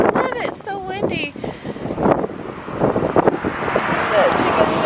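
Strong wind blowing outdoors on a farm, gusty rushing noise buffeting the microphone under someone talking, with bird calls around.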